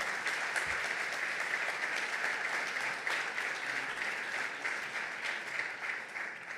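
A conference audience at a national colloquium gives sustained, even applause, a soft, distant wash of clapping with no other sound over it.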